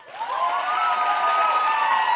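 A group applauds together as a show of approval, steady clapping rising quickly and holding loud and even for a couple of seconds with no talk over it.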